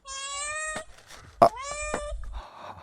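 A cat meows clearly and close by, several drawn-out cries in a row, with a short sharp knock partway through and faint background noise at the end.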